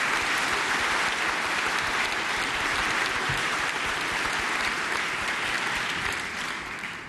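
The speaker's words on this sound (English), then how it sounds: "You may applaud." A conference audience at a Falling Walls event in Berlin applauds steadily, dense broadband clapping sustained throughout and tapering slightly at the end.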